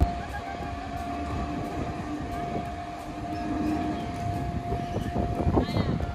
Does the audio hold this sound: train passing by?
yes